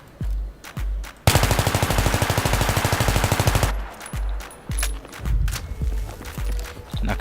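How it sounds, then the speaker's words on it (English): Rapid, sustained burst of M16A3 full-auto fire with a heavy barrel in a video game, loud and evenly spaced shots for about two seconds, with scattered single thumps and footsteps around it. "This is going to be full auto fire without controlling any recoil at all"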